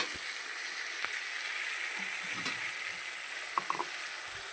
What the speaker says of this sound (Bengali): মশলা থেকে এবার তেল বেরিয়েছে তো মশলাটা আর একটু ভালো করে নাড়াচাড়া করে